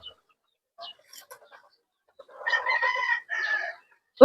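Chickens clucking and calling nearby, a cluster of short squawks building into a louder sustained vocal burst, with faint background chatter.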